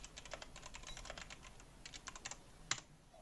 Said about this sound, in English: So we can type utterances in here if we want to.